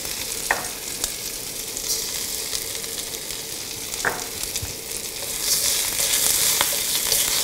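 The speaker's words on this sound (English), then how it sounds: "Give it a quick stir fry" Spring onion and seasonings sizzle and crackle in a hot wok as they are stir-fried for pork, a continuous frying hiss broken by a few sharp clacks of the spatula against the pan.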